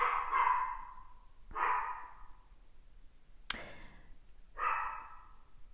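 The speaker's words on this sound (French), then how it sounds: "je sens qu'elle aboie, c'est qu'il y a du bruit dans la rue" A dog barking at noise out in the street, four separate loud barks spaced about a second apart, one short and sharp, close by with no talk.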